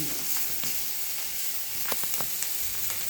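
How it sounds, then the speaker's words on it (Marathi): Phodni tempering sizzles steadily in hot oil for a spicy vegetable dish, a continuous close hiss with a few sharp crackles and pops near the end, no voices. "आता थोडी फोडणी टाकून घेतलेली मी"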